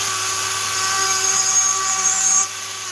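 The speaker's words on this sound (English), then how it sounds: "I'm using the taper burr from the fine detail cuts all burrs. It's the taper burr. And this is poplar." A rotary tool fitted with a taper burr carves poplar wood, giving a steady high-pitched whine with a slight rise before cutting off near the end.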